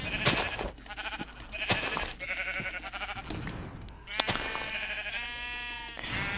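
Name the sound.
sheep bleating in Minecraft video game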